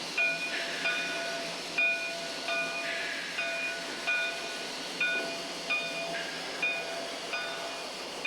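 A train on the Georgetown Loop railway in Colorado rolls along with a steady rumble and hiss, punctuated by regular rhythmic clicks of wheels over rail joints, heard near and continuous.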